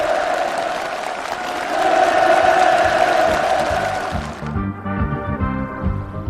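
Enthusiastic applause with cheering from participants at a new housing move-in ceremony on a farm in Rakwon County, dense and loud, swelling mid-way, then thinning as music-like tones take over near the end.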